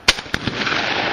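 A shotgun fires at a skeet target on an outdoor range: one sharp, loud close blast, then a second crack, trailing into a rolling echo that fades over about a second.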